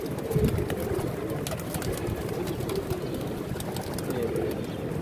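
Pigeons in a rooftop loft coo softly and continuously against a steady background hum, with no voices present.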